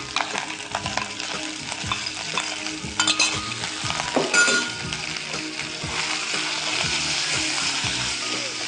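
Chicken fries in a pan with ginger garlic paste for a pepper fry, a close, continuous sizzle broken by stirring scrapes and occasional clinks of a utensil against the pan.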